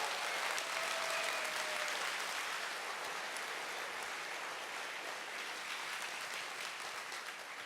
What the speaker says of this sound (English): our registration team deserves a round of applause